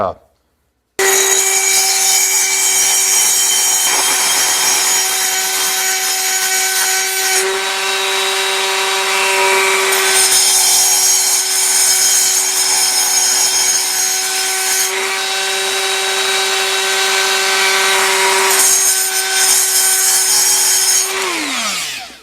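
A rotary grinder ports and smooths the intake port of a Vortec cylinder head for a 400 small-block Chevy. A loud, steady, high-pitched whine with rasping grinding texture holds for about twenty seconds, then winds down at the end.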